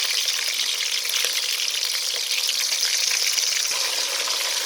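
Thethelan, meat scraps from a sacrificial animal, frying in hot oil in a pan, a steady dense sizzle and crackle heard close up and without speech.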